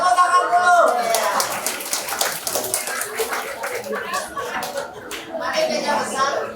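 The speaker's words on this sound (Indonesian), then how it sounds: "Kami persilakan, tepuk tangan dulu." Audience clapping at a kindergarten Christmas celebration, a dense wash of hand claps running throughout with an announcer's voice over it at the start.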